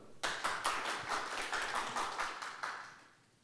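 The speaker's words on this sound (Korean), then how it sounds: "큰 박수 부탁드립니다." A conference audience gives brief, moderately soft applause for a speaker at a Korean medical products conference, a steady patter of claps that starts abruptly and fades out after about three seconds.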